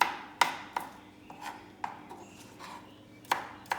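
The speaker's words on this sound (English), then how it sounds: "So I'm just cutting up some garlic" Knife on a cutting board slicing garlic: sharp, sparse taps at an uneven pace, close and fairly quiet, with soft scraping in between and no talking.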